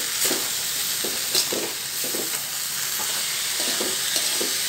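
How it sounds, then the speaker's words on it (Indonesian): Sautéed papaya flowers with palm sugar, broth powder and salt are stirred in a frying pan: a constant close hiss of frying, broken by regular scraping strokes of the spatula, with no talking. "Aduk."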